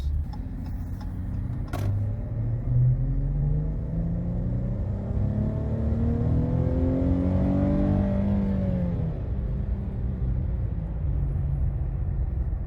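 A Dodge Challenger SXT V6 engine revs up steadily with a rising drone, dips as it shifts from second to third gear, then climbs again, heard from inside the car with constant road rumble.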